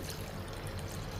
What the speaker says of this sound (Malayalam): ഇതിലേക്ക് കുറച്ച് വെള്ളം ഒഴിക്കുക.